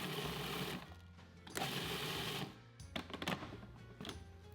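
A food processor grinds hot chili peppers in loud, close bursts of whirring motor noise, stopping and starting several times with short pauses between the pulses.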